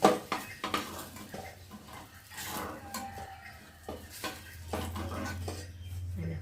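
Fried eggplant slices lifted out of a pan, with scattered close metallic clinks and scrapes of a utensil against cookware over a faint background of frying.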